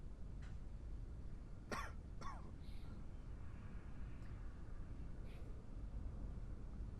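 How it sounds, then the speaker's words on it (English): Short bursts of coughing and a throat-clearing sneeze-like sound from a patient in a quarantine zone, two or three close sharp events over a steady background hum, with faint voices around. "Yep, that's sneeze, hiccup, cough."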